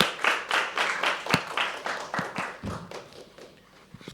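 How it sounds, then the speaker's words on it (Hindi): Audience at a live poetry open mic at The Habitat claps after a performer finishes; sharp, separate claps come in uneven bursts that gradually thin and fade. "कोई जोरदार तालियां दोस्तों"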